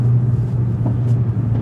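A Mercedes A45 AMG in sports mode rumbles steadily through a downshift, its low engine note holding close and even with a faint blip midway and no talking.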